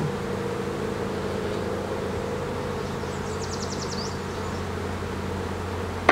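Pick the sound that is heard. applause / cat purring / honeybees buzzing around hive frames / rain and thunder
honeybees buzzing around hive frames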